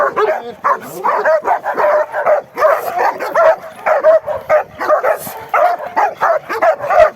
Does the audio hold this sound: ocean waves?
no